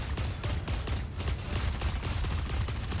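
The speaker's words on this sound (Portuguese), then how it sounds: "Vou ficar aqui parado dando tiro." Skylark mech in Super Mecha Champions fires its gun in a steady, dense rapid burst, loud and continuous for the whole stretch with no talk.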